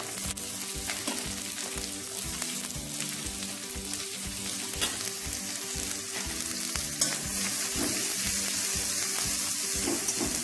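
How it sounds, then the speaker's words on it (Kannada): Chopped onion frying in a pan for dal tadka, a loud continuous sizzle broken by regular stirring scrapes, with no voices. "ನೋಡಿ, ಇದು ಫ್ರೈ ಆಗ್ತದೆ. ಸ್ವಲ್ಪ ಕೆಂಪು ಫ್ರೈ ಆಗಲಿ."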